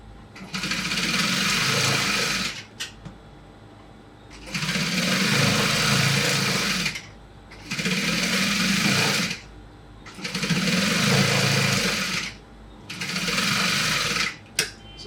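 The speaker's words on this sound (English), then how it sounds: "So easily I'm going to stitch this part. Just going to stitch it round." A sewing machine stitches around a round cap lining in five steady bursts of a couple of seconds each, with brief pauses between runs. It is close and fairly loud, and no one speaks.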